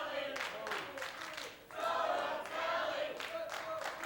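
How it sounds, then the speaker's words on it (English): Wrestling crowd at a live match chanting for Anthony Toatelli, a loud, rhythmic roar of many voices rising in repeated pulses and swelling again after a brief dip. "this crowd chanting for Anthony Toatelli, trying to get him back into this matchup"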